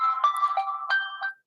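A phone ringtone plays alone at moderate volume, a short melodic electronic sequence of bright tones that stops abruptly.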